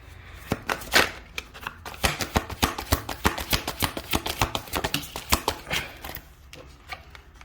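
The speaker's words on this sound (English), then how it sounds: "I'm going to shuffle again." Tarot cards are shuffled close up in a rapid run of crisp riffling slaps and flutters, with short breaks between bursts and no talk.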